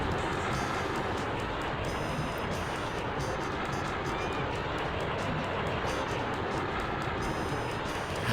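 Train rolling along in the PlayStation game Looney Tunes: Sheep Raider, a steady loud rumbling drone with faint metallic clatter and ringing on top, continuous throughout.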